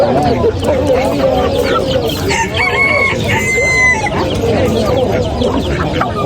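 A rooster crows loudly and close at a busy poultry market, amid dense clucking from other fowl and people talking in the background.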